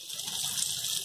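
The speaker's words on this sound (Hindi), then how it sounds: "पकने के लिए हम आधी कटोरी पानी भी डाल देंगे।" Water poured from a small bowl into a pan of stuffed pointed gourds cooking in oil on a gas stove, a steady close hiss and gush lasting about a second.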